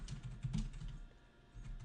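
Keystrokes on a computer keyboard as a networking command is typed, a steady run of quiet clicks close by with no talking.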